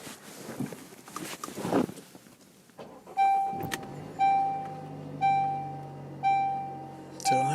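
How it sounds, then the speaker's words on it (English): Video-game car ambience: engine hum and road noise, then a low steady drone with repeating chime-like tones sounding at regular intervals, moderately loud with no talking. "how about we go for a drive?"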